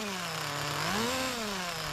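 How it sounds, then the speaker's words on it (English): Tamiya 1/8 scale nitro RC car engine being revved for warm-up, a steady high-pitched buzzing whine that rises and falls slightly in pitch, loud and close with no talking. "And let's do some warm-up revs to clear it out a bit."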